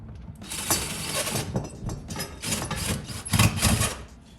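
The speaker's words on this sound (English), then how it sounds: "we'll just drill this right into the wall" A power drill drives a PlayStation 5 wall mount plate into drywall, whirring and grinding in loud, uneven bursts with short pauses between them, close up and with no voices.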